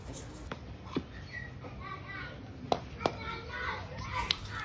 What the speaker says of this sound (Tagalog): Maingay guys yung background ko, may mga bata kasi dyan na naglalaro sila dyan.